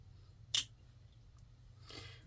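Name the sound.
trimming thread ends with scissors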